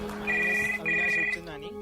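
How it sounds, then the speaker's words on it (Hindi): A landline telephone rings in two electronic trilling bursts with a short gap between them, moderately loud against faint background noise. "जब घर का लैंडलाइन बजा"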